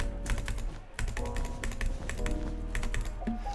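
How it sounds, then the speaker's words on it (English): Fast butterfly clicking on a computer mouse while playing Minecraft: a dense, rapid stream of sharp clicks, close and continuous, with no voices. "it's because I use the butterfly clicking method, and registers a lot of CPS"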